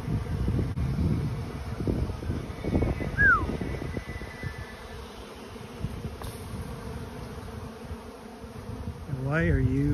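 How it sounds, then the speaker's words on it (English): Honey bees buzz around a hive during a honey flow, a dense low droning swarm close to the microphone, mixed with wind rumble and a few faint sounds in the background. "The truck's in the way and it's confused the bees."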